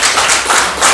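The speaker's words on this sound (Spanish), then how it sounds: "Aleluya, denle un aplauso." A church congregation bursts into applause during a Spanish-language sermon, a dense, steady wash of many hands clapping close by for about a second, with no talking over it.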